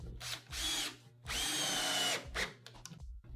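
A power drill drives screws straight into the edge of an AZEK composite deck board with no pre-drilling, whirring in several close bursts: two short spins, one long sustained run, then quicker stuttering pulses.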